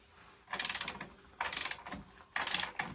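Torque wrench tightening axle nuts to 80 Newton meters, three close bursts of rapid ratcheting clicks separated by short pauses, with no talk.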